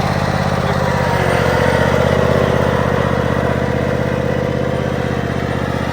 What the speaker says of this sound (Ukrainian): Включили косилку, тільки як машинка їде вже тепер.